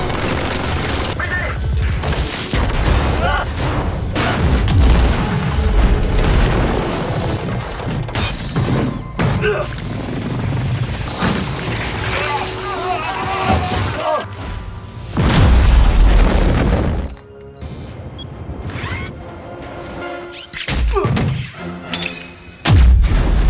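Film explosions as Pandora's robots blow up the Orca: loud, continuous booms, crashes and shattering debris roll on, with a few heavy thuds and brief quieter gaps toward the end.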